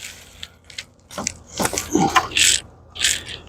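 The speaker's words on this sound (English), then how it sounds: "Got my 10 mil socket." Ratchet turning a 10 mm socket while fitting a grille to a 2023 Toyota Tacoma Pro, giving quick bursts of close metallic clicking and ratcheting that repeat in short spurts with brief pauses between, and no talking.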